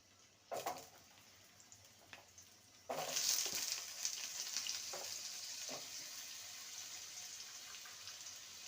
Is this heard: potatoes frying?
yes